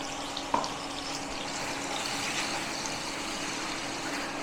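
Poppy seed paste goes into a pan of yogurt on low heat for a Bengali egg curry, giving a steady, soft sizzle with one small clink near the start.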